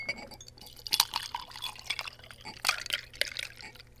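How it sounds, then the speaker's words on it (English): Mojito poured into a glass with a sugarcane stick at a restaurant, heard as close liquid splashing and trickling with light glass clinks, uneven bursts over a quiet room hum. "Go ahead and pour it into the glass."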